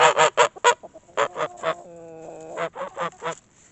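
Goose honking close by, a loud series of sharp, rhythmic honks broken by one longer drawn-out call in the middle, with no other voices.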